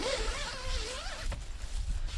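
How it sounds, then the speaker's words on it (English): A big chunky zipper on a Hilleberg Allak 3 tent slides up in one quiet, rasping pull, followed by soft fabric rustling close by. "these are big chunky zippers, so that is just going to slide up"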